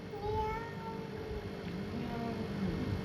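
A small child imitating a cat, producing a few thin rising meow-like cries over a quiet room with faint background murmur.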